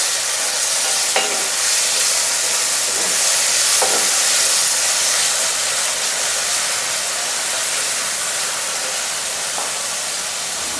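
Steady close frying hiss from chopped tomatoes and green chillies cooking in a pan for a spiced potato-capsicum sabzi, with occasional faint scrapes of a spoon stirring through and no voices.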